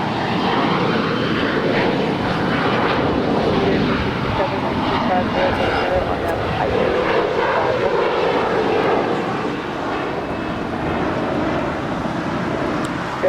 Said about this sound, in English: That is Alaska SkyWest Flight 3474 departing to Fresno. It's a 4-year-old Embraer E175 LR.